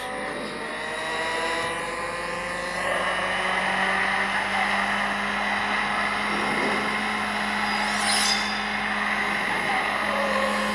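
A Lotus Emira car drifts with a steady, sustained engine drone and high whine that hold throughout, loud and continuous, rising slightly near the end.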